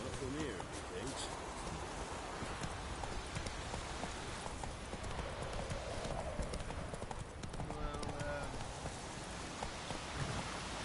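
A galloping horse in The Witcher 3: Wild Hunt, its hooves clip-clopping in a continuous quick rhythm under game ambience and occasional spoken voices.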